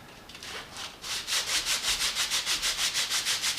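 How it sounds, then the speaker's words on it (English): Steady back-and-forth sanding with 250-grit sandpaper, a rhythmic series of raspy strokes that speeds into an even pulse, close up with no talking. "sanding the surface. I think we've got about a 250 grit paper."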